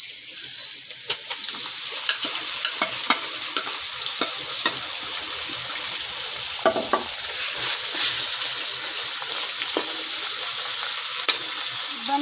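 Minced meat frying in a pan for a capsicum keema, a steady bright sizzle with scattered sharp spatters and occasional scraping stirs, close and continuous with no talking.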